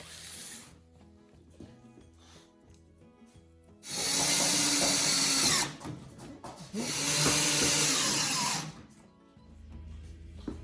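A power drill drives roofing screws into a wooden rabbit hutch roof in two loud bursts of whirring and grinding, each lasting about two seconds, with quiet handling noises between and after.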